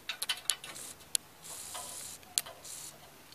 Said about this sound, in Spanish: vamos a proceder a armar el mástil con el tornillo más largo